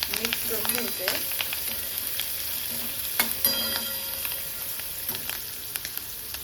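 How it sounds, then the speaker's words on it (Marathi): Green chillies with chopped garlic sizzle and fry in a pan while being stirred, a steady crackling hiss with small spatters and utensil scrapes, close up and without talking. "मिरच्या थोड्याशा आपल्याला भाजून घ्यायच्या आहेत, कच्च्या राहणार नाही अशा पद्धतीने."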